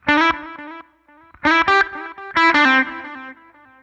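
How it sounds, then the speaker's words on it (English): Electric guitar notes and chords ring out, each followed by quieter delayed repeats that trail off, with no talking. "you're going to hear the delay bounce back and forth between the speakers"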